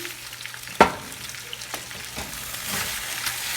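Potatoes fry in oil in a pan for a hot breakfast sandwich, a soft, even sizzle broken by a sharp utensil knock early on and a few lighter stirring scrapes, with no talking.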